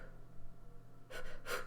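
A person yawns twice, breathy exhaled bursts close to the mic against a faint steady background hum, each lasting a fraction of a second.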